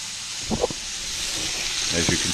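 Scallops searing in a hot buttered pan give off a steady, bright sizzling hiss throughout, with a voice briefly talking over it.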